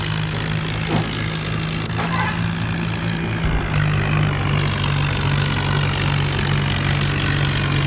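A tractor engine drones steadily as it pulls a loaded trolley at night, a loud, continuous low hum close by with faint clanks from the load.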